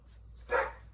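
Dogs give a short bark indoors in a house with a craft room, a single mid-loud burst over quiet room tone.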